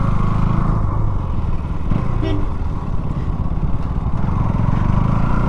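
A KTM Duke 200 Gen3 motorcycle engine drones loud and steady while riding, a continuous close rumble with wind buffeting and no speech over it.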